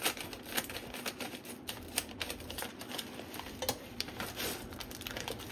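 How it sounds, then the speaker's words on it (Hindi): A Maggi Pazzta pasta packet is torn open by hand, with dense crinkling and crackling of plastic film and sharp rustling snaps scattered through several seconds, close and moderately quiet, without talk. "और चलिए अब हम अपने पैकेट को ओपन करते हैं।"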